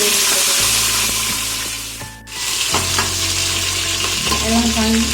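Curry leaves, onion and garlic hit hot oil for a vegetable biryani, giving a steady loud sizzle and crackle of frying with stirring clatter, briefly dropping off before surging again, with no talk.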